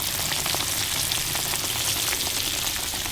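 Green tomatoes, zucchini and yellow squash fry in hot oil, giving a continuous close, dense sizzle and crackle with no voices.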